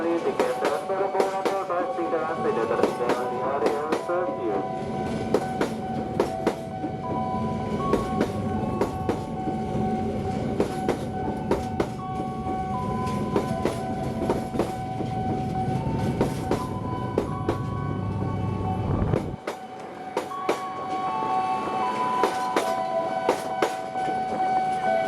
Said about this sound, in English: This is the Kertajaya train that runs between Pasar Senen Station and Pasar Turi Station in Surabaya.